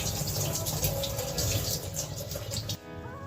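Tap water runs steadily into a kitchen sink as lentils are rinsed for a Bengali mixed vegetable dal, a continuous close splashing gush that drops off abruptly near the end.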